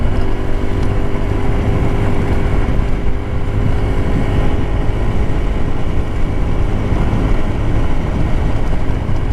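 A 50cc or 150cc motorcycle engine drones steadily as the scooter rides down the center of a bumpy road on a quiet afternoon, loud and continuous with wind buffeting the microphone throughout.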